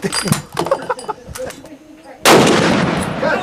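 A Vulcan 20 mm gun fires a single loud, sustained roaring blast that erupts about two-thirds of the way in and dominates the rest, after a stretch of quieter background sounds and voices.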